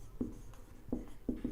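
A pen scratches out notes on paper in a few short, close strokes with brief gaps between them, faint and with no voice over it.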